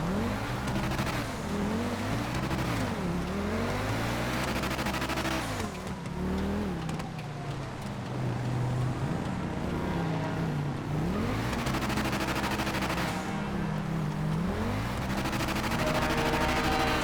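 A racing car's engine howls and swoops in pitch during a FiveM video game race, tyres squealing and skidding through corners, loud and unbroken, with other cars passing close by.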